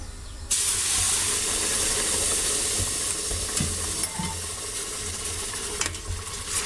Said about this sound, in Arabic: بدات تتقلى